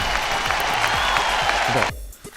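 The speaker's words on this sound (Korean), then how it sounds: "이 타이밍에 박수 한번 나와야 돼" Studio audience applause on a Korean beauty talk show, a dense wash of clapping that holds steady for about two seconds, then cuts off abruptly, leaving faint room noise.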